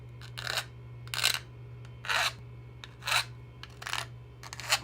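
A hand file rasps along a thin aluminum edge in six short, evenly spaced strokes, close and fairly quiet over a steady low hum, with no talking.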